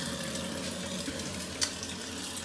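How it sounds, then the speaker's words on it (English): Cold tap water runs steadily to rinse a Fujifilm FP100c instant-film negative on a plate. The hiss is continuous and close, with a small splash partway through. "then just use some cold water"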